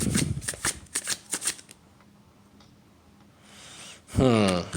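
A deck of tarot cards is riffled in several quick, crisp bursts up close, then a softer rustle of handling follows, with a brief sigh-like breath near the end.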